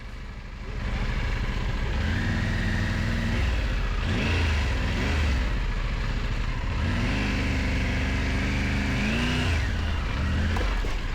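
An off-road motorcycle engine revs hard through mud, rising and falling in pitch with the throttle, loud and close and continuous, with no talk.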